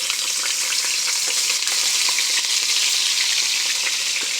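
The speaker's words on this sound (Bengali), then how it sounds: "তেলটা গরম হয়ে গেছে, আমি কড়াইতে আলু আর পেঁয়াজটা দিয়ে দিলাম।" Potato and onion fry in hot oil in a wok, a loud, continuous bright sizzle with faint stirring scrapes and no voices.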